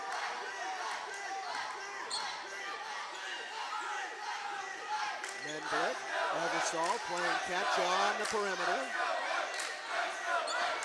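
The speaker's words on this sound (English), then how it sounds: "Crowd's getting into the game." Crowd at a boys basketball game against Monona rumbles and swells steadily, rising louder in the second half, with a commentator talking over it and a ball bouncing on the court.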